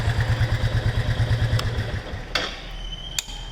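A Royal Enfield Meteor 350 motorcycle with an aftermarket exhaust and modified dB killer idles with a deep, rapid, even putter for about two seconds, then shuts off, leaving a few light mechanical clicks.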